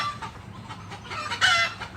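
Chickens cluck amid a busy farmyard murmur, with a louder, brief crowing call rising near the end; moderately close, no talking.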